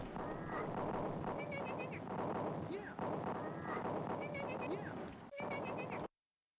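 Rapid gunfire in an early Mac video game played with a gamepad, dense repeated shots and blasts in bursts filling the clip, loud and steady before cutting off abruptly.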